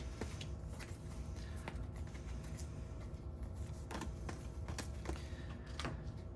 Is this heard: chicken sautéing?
no